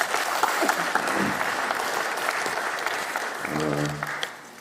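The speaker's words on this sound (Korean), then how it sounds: "안 계시지만 박수 한번 보내주시기 바랍니다." An audience at a Korean political party gathering claps steadily for an absent council member, a dense, continuous wash of applause that fades near the end as a voice begins speaking over it.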